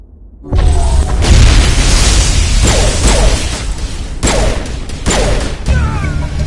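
Gunfire and explosions erupt in a Mass Effect firefight, loud booms and rapid bursts of shots kicking in abruptly after a quiet start, then continuing in pounding waves with sharp impacts.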